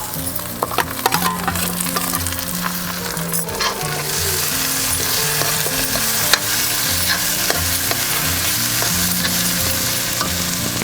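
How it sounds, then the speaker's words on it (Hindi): Fried onions sizzle hard in a pan as green chillies and tomatoes go in, a loud, continuous frying hiss broken by scraping stirs and clinks, with no voices. "ये देखिए हमारी प्याज भून चुकी है और अब मैं डाल रही हूँ इसमें हरी मिर्च और साथ में डालूँगी टमाटर।"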